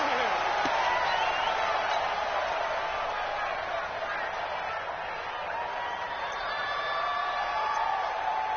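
Packed NFL stadium crowd before a New York Giants versus Philadelphia Eagles game, a steady broad roar of cheering with faint whistles and shouts layered through, sustained and undiminished throughout.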